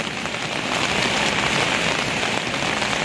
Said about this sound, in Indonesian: hujan lumayan deras malam ini